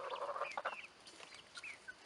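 Chickens clucking and calling in short bursts, a few higher squawks rising over a busy opening flurry, then sparser calls at moderate distance.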